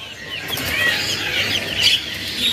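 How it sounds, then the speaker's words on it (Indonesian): At a bird market kiosk, a black Kedasi bird flutters its wings in a cage. Brief, close bursts of flapping mix with a few high chirps over quiet market background noise. "Ini untuk Kedasi yang berwarna hitam. Wah, burungnya di sini."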